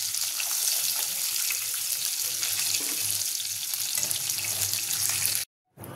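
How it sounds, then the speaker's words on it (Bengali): Hilsa fish lightly frying in hot oil in a home kitchen, giving a steady, dense hiss and crackle that fills the whole clip before cutting out abruptly near the end. "একদম বেশি ভাজবো না, হালকা ভাজবো।"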